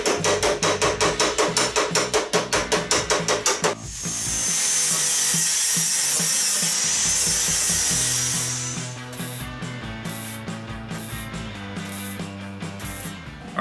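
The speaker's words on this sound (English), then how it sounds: "this section you guys can see me hammering on" Rapid, loud metallic hammer blows, about fifteen in a steady fast rhythm, on a Kubota mower deck plate being repaired, followed by a sustained grinding or cutting roar and then clanking workshop noise.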